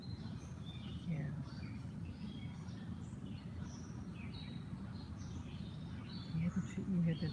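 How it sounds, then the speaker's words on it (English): Birds chirp and tweet outdoors in scattered short calls, fairly faint and distant over a steady low background rumble, with no clear talking. "You guys hear the birds?"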